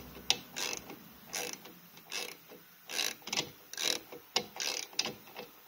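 A ratchet fitted with a 9 mm socket tightens a bolt on a bike brake, with rapid bursts of close metallic clicking in uneven strokes and short pauses between them.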